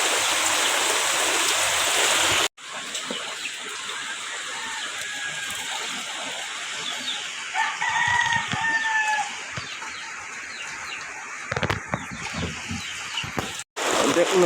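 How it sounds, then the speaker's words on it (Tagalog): Heavy typhoon rain and rushing floodwater near a rural provincial house and river form a steady, dense roar throughout, with a rooster crowing and hens clucking nearby and a voice talking briefly. "Simula pa kagabi ang ulan hanggang ngayon."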